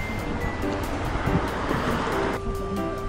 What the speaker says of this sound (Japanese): あと船も走ってるみたいで